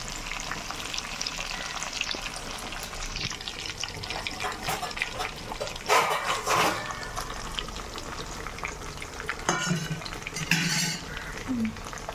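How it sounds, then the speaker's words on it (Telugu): Fish pieces fry in hot oil with a constant spattering sizzle, broken by metallic scrapes and clatter from a spatula and pan as the pieces are flipped to cook the second side. "ముక్కలు తిప్పుకొని పక్కన తిప్పుతున్నాం ఫ్రెండ్స్ ఒకవైపు వేగినాయి కదా రెండో వైపు తిప్పుకుంటున్నాం"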